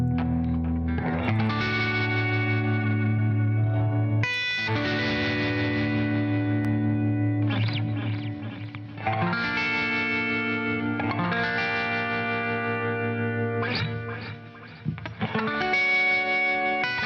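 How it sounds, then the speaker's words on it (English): Electric guitar played through the Nembrini JMP Pro amp app on iOS with a clean tremolo tone, chords ringing and pulsing in steady waves, with several changes across a continuous passage and no talking. "So this is a Lester clean tremolo sound."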